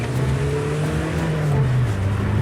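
A car engine revs up close and loud, its droning pitch climbing and then dipping as it shifts, with no talking.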